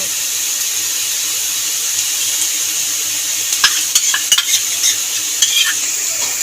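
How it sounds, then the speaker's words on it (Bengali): Tomato and green chili paste frying in a pan, a steady bright sizzle with a few spoon scrapes and stirring knocks toward the end, close and without talk. "টমেটো আর কাঁচা লঙ্কা বাটাটাও নেড়ে ছেড়ে নিলাম"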